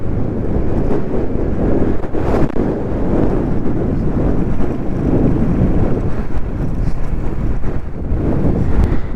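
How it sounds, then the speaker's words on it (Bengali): Strong wind whips through a dust storm on the high road between Jomsom and Muktinath in Nepal, a loud, steady roar of gusts buffeting the microphone from start to end with no talking. "প্রচুর হাওয়া চলছে এখানে"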